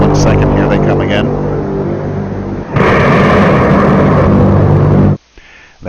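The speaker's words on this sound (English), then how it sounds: "The fearsome rumbles occur with no warning and leave no clues to reveal their origins." Booming rumbles of the mysterious Seneca Guns, a run of deep, loud low-end roars and thumps that swell and fade across several seconds before dropping off abruptly near the end.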